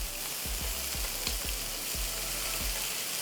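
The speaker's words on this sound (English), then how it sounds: "Our bacon is looking good. Let's just flip it over to start cooking on the other side." Bacon fries in a pan over medium-high heat with a constant dense sizzle. Several soft low thumps of turning or stirring are heard up close, and no one talks.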